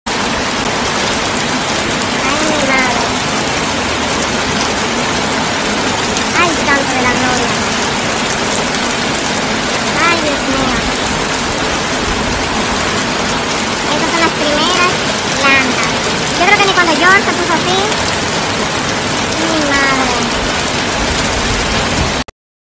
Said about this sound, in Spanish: porque está lloviendo y sigue lloviendo